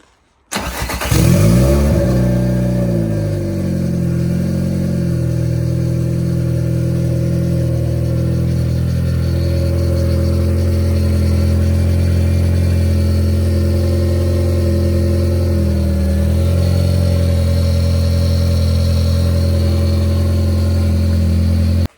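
An Audi S3 engine being built toward 500 hp fires up for the first time with a sharp cranking catch, then settles into a steady, loud, even idle that holds with slight wavers throughout.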